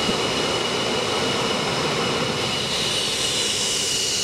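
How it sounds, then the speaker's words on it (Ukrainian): Two MiG-29 fighter jets taking off on an alert scramble, heard as a loud, continuous, broad jet-engine roar that holds steady throughout with no talking. "По тривозі у небо піднялись два винищувачі міг 29"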